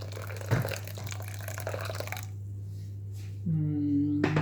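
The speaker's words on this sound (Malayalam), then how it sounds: "പിന്നെ അതിനകത്ത് ഈ തേങ്ങാപ്പാൽ തേങ്ങാപ്പാൽ ഒഴിക്കണം" Coconut milk poured into rice flour gives a wet, splashing pour for about two seconds over a steady low hum, then falls quiet before a faint tonal sound.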